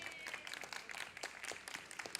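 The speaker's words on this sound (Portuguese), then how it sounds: "Salva de palmas." A round of applause greets a professor at a blue economy and ocean culture panel, scattered individual claps from a modest audience, crisp and somewhat distant, with no talk.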